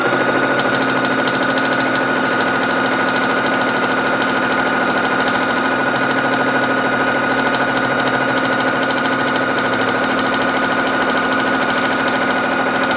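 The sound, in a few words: domestic sewing machine stitching with Grace Quiltmotion automation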